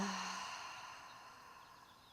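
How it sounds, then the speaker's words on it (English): A long, slow exhale breathed out through the mouth during a yoga breathing exercise, heard alone and close up, one sustained breath that softens gradually over about two seconds. "Long exhale out the mouth."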